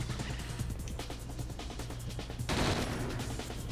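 Rapid bursts of automatic gunfire from the Red Steel video game, a steady crackling volley that swells louder and harsher midway, with no voices over it.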